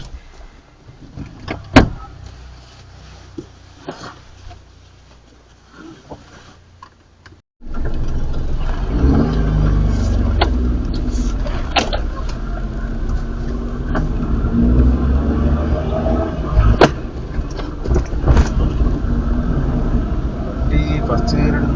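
A car at a driving test, quiet interior clicks and knocks at first, then the engine starts abruptly and keeps up a steady, loud rumble that runs to the end, with an instructor talking over it.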